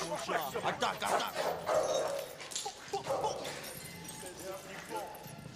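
Dog barking and whimpering in short yips and bow-wows, fairly close, mixed with people talking over it.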